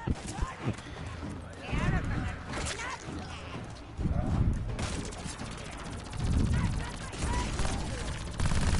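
Gunfire in a PS4 shooter, a burst of shots and clattering game effects running throughout under a loud, busy mix, with a player talking over the action.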